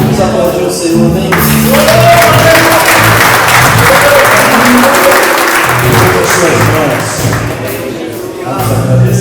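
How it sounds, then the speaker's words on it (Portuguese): A church congregation applauding during a worship service, a broad steady wash of clapping mixed with voices and sung tones, loud and continuous before easing slightly near the end. "Vamos aplaudir o Senhor, amém?"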